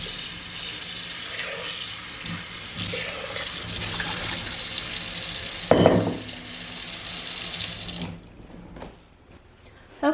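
Running water pours steadily and loudly into a container to foam a bath bomb made with SLSA. It makes a dense, hissing splash that holds for about eight seconds, briefly surges, then cuts off to quiet dripping.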